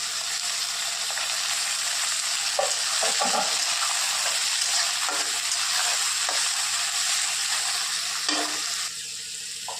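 Onion and tomato fry in a pan with steady sizzling that stays loud and constant, broken by occasional scrapes and stirs of a spoon through the mixture.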